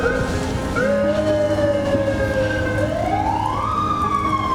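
Ambulance siren wailing loud and steady, its tone sweeping slowly up and down over a low rumble of traffic, with no voices.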